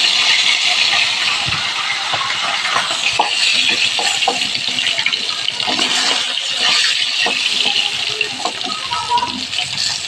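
Greens fry in oil in a kadai, giving a steady close sizzle with occasional stirring scrapes and clinks.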